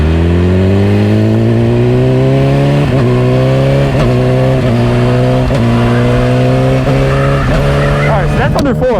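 Yamaha R6 600cc sport motorcycle ridden below 4000 rpm, its loud close engine drone climbing steadily through the gears with a brief dip at each shift, running throughout with no voice heard.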